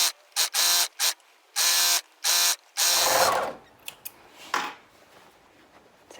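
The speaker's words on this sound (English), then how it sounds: "I am going to overlock around that top seam," An overlocker stitches around the top seam of a waistband joining lining and outer fabric, starting at a side seam, in loud whirring bursts of about half a second each, followed by a longer run and then quiet handling.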